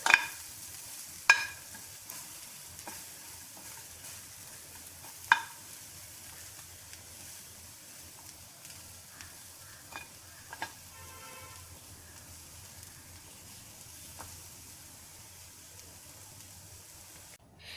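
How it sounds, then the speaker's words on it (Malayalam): Drumstick flowers with onion, garlic, fennel powder and turmeric sautéing in a pan, with a faint steady sizzle and occasional light stirring clicks and scrapes, close and quiet with no talk. "കുറച്ച് സവോളയും വെളുത്തുള്ളിയും പെരിഞ്ചീരകപ്പൊടിയും മഞ്ഞളും കൂടി ചേർത്ത് വഴറ്റിയാൽ"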